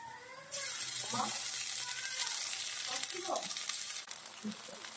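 Paste of ginger, cumin, garlic and coriander dropped into a hot pan for cooking octopus, bursting into a sudden steady sizzle that softens near the end, with faint stirring clinks and a voice speaking quietly underneath.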